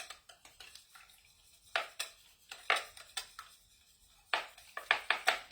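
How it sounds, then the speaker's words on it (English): Egg and milk whisked together in a bowl: quick metallic scraping and clinking strokes come in short irregular bursts with pauses between, close and fairly crisp, with no talking. "Then I am going to whisk my egg and my milk together."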